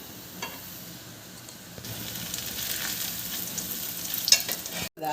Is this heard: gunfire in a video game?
no